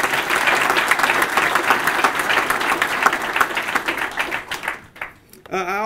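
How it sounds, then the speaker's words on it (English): An audience at a swearing-in ceremony for a police chief bursts into sustained, dense applause, loud and close, before the clapping thins out and a voice speaks at the very end. "Give them a huge round of applause, please."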